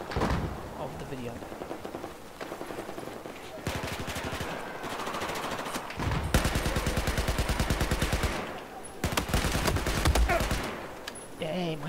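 Rapid automatic gunfire from hip-firing in Battlefield 4 on the Dragon Valley map, dense rattling bursts of varying length with short pauses, while voices talk over the shooting.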